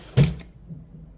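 A drawer in a craft room holding adhesives slides open with one short, loud thump-and-rumble, followed by a faint settling clatter, with no talk.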